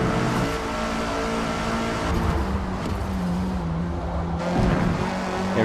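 A race car in the video game Forza Motorsport roars continuously with its engine revving and shifting during a lap, loud and close, with no talk over it.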